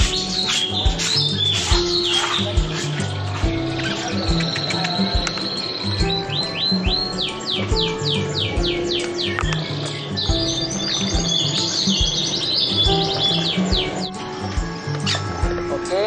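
A caged cucak cungkok, an imported songbird, chirps and trills repeatedly in rapid sweeping phrases near the microphone, while someone talks underneath throughout.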